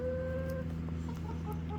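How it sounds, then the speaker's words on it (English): Chickens cluck softly in a farmyard pen, a steady low murmur of fowl sounds with a few short higher calls, fairly close and continuous with no talking. "Yes, he's my baby chicken."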